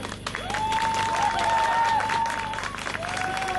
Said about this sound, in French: Vraiment un tonnerre d'applaudissements pour notre maquilleuse.